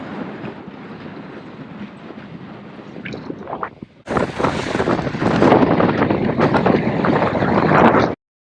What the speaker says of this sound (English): It's really windy, probably 15, 20 mile an hour winds right now.